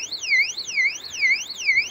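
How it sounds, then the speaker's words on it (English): An electronic alarm at a house on a large property sounds loud and close, warbling up and down in a steady, repeating cycle about every half second. "that's my alarm, just ignore it"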